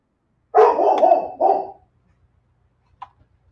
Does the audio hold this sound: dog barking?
yes